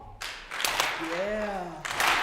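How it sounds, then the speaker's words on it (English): An audience at a Martin Luther King Jr. legacy celebration claps along in a few loose bursts, with a voice singing or calling over the clapping. "I'm gonna need a little clap."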